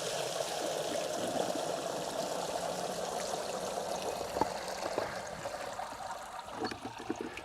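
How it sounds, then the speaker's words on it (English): Garden compost shaken through a coarse sieve into a bucket, a steady soft rustling patter of falling material with a few small knocks and clatters near the end. "that means a process of sieving at this stage. So I've got a fairly coarse sieve going into the bucket"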